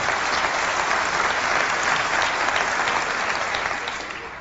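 Audience at Macworld 1998 breaking into dense, sustained clapping from a large crowd, steady for several seconds before starting to fade at the end.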